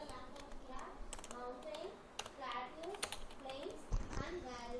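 Computer keyboard typing with irregular key clicks while entering a sheet name in Microsoft Excel, heard under a voice talking throughout.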